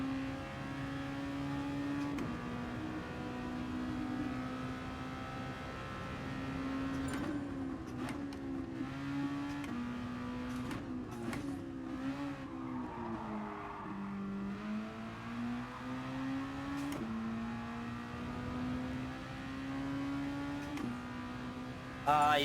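A race car engine in Gran Turismo Sport, during FIA testing, revs continuously, its pitch climbing and dropping through gear changes and corners, with brief bursts in between.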